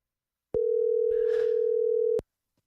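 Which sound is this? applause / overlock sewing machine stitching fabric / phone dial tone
phone dial tone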